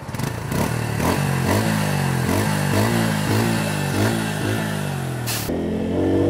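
A close Bajaj Pulsar P150 150cc motorcycle engine revs up again and again while riding in a steady rhythm, the pitch climbing and dropping with each gear change.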